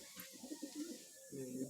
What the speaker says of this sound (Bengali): আর এই যে পায়রা, ওই যে পায়রার বাচ্চা হয়েছে